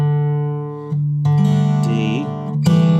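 Guitar picks a stepwise scale on the middle two strings while open strings ring as drones underneath, the notes sounding close and clear in a few plucked, sustained phrases.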